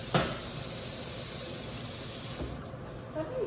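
Hot water runs into a sink with a steady, close hiss of steam and spray, fading toward the end before a couple of soft knocks.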